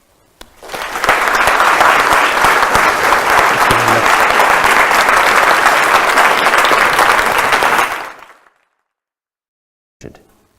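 A lecture audience applauds to welcome philosopher Anthony Grayling, loud, dense clapping that holds steady for about seven seconds, then fades out into silence, followed by a brief single thump.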